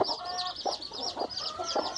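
Mother hens cluck in short, repeated bursts at close range, several birds overlapping in a busy run of calls with no talking.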